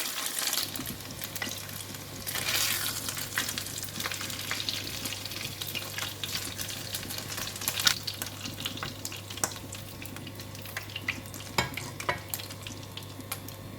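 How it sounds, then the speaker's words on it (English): Pork belly frying in a pan for a black bean stir fry, a steady close sizzle with scattered crackles and pops, no talking. "the meat is cooked and crispy in one side, and I'm going to take it out from the pan."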